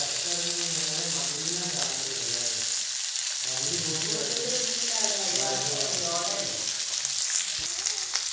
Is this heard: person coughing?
no